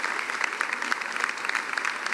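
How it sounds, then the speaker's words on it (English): Applause from the audience for an award recipient at a medical school white coat ceremony, a fairly soft, even patter of many hands heard from a distance. "Give her another round of applause"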